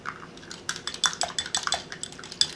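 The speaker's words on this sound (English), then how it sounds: "and then whisk it well." Egg wash of beaten egg and a teaspoon of water whisked in a bowl, a quick irregular run of clinking metal taps against the bowl, close and clear with no talk.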